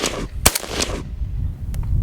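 Century Arms RAS-47 AK rifle firing steel case ammunition at a gun range, heard as a few sharp, loud shots close by, with a fainter pair of reports trailing near the end.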